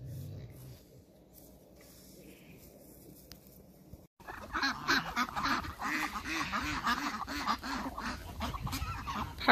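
Farm geese and other fowl fattening up for winter on a frosty morning, with quiet ambience first, then from about four seconds a loud, dense flock chorus of honking and quacking calls overlapping continuously close by.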